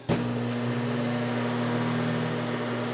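A microwave oven runs with a glass of water inside, giving a steady, close electrical hum with a low mains buzz that starts abruptly and holds evenly throughout.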